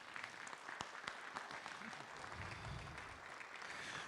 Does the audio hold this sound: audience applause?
yes